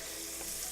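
Carrots browning in butter in a cast iron pan sizzle steadily as they are stirred, a soft continuous frying hiss heard up close.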